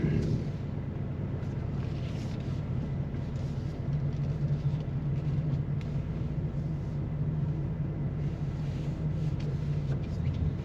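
A tuned bolt-on fifth-gen car driving around the block, heard from inside as a steady, loud low engine drone with a sustained hum and little variation, no talking.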